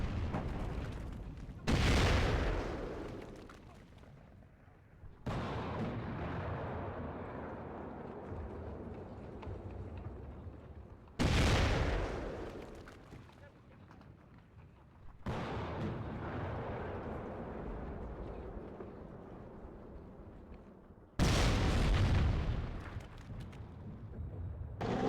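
Heavy artillery-style blasts from M10 units firing on infantry in the strategy game WARNO, three loud booming bursts spaced roughly ten seconds apart, each trailing into a long rumbling wash of battlefield noise.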